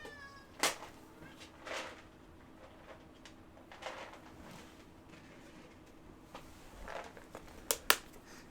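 Cat meows from the game The Planet Crafter: a few faint, scattered mews and squeaks over a low background, with a couple of sharper clicks near the end.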